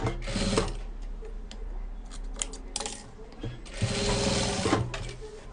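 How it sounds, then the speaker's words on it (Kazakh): A sewing machine stitches across patchwork quilt pieces, its fast mechanical whir running in two loud bursts with a quieter pause between them. "Қимай тігіп өте кетемін."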